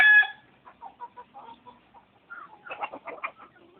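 Hens on a farm in Vermont cluck in soft, short bursts, some near and some a little farther off, after a brief louder squawk at the start, with no talk over them.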